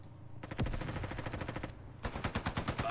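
Rapid gunfire in Roblox, a fast run of sharp repeating shots, then a brief pause and a second burst of evenly spaced blasts, loud and close with no voices.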